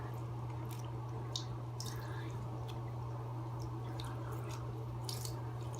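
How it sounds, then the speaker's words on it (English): Wet wool fleece is pressed down under hot water while being scoured, giving soft intermittent squishes and drips over a steady low hum, gentle and close, with no talking. "gently press the wool under the water"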